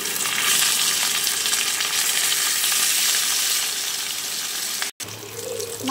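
Katla fish pieces sizzle steadily in hot oil, a dense, loud frying hiss that fills the clip, with a brief clatter near the end as the fish are flipped.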